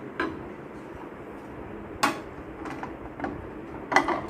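Ceramic tea cups and dishes clink and rattle as they are gathered up and carried in a home after guests, with four or five distinct sharp knocks spread across the clip over faint background noise.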